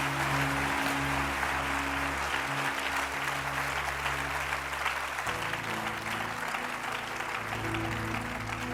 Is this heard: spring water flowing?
no